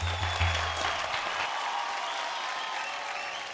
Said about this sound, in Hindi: ताली बजाइए यार।